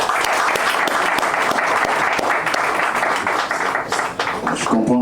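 Hearty applause from the audience at an official signing ceremony in Côte d'Ivoire, steady dense clapping that dips briefly before a voice begins near the end.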